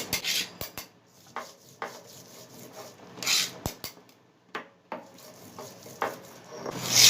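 Spices being ground into a fine paste by hand, likely on a stone, a home remedy paste for restoring taste after a cold and fever. It gives repeated close rasping, rubbing strokes in irregular bursts with no talking.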